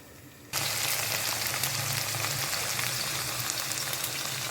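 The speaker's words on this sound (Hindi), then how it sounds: "गवार की फली और आलू को फ्राई करेंगे।" Cluster beans and potatoes fry in hot oil, a loud, steady sizzle that starts abruptly after a brief quiet moment and continues without pause, with no talking.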